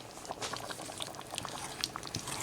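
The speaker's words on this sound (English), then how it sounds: "let me have this come to a simmer" Apple pie baked beans simmer in a pot, quiet bubbling pops and gentle plops crackling irregularly up close.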